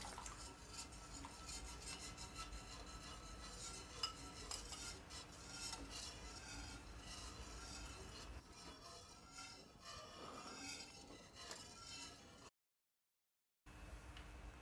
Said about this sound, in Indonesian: Kemudian tetap kita aduk-aduk sampai kekentalannya sesuai dengan yang kita inginkan.